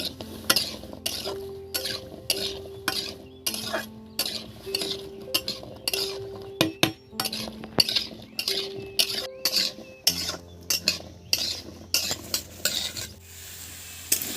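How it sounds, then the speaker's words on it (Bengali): A spoon scrapes and stirs small white potatoes with skins in a vegetarian curry in a pan. The strokes are rhythmic and close, with clinks against metal over a soft sizzle. "এবার এটাকে কিছুক্ষণ একটু নেড়ে ছেড়ে নেবো"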